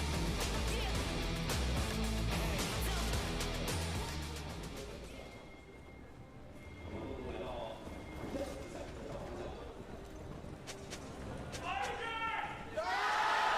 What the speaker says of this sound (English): Oh, that's a loud chant.